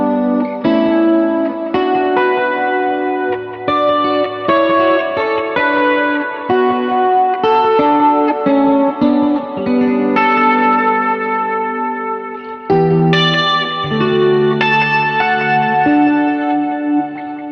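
Electric guitar through a chorus pedal with echo and reverb plays a song part, shimmering chords and melodic lines ringing out close and loud over a long continuous passage, no voice.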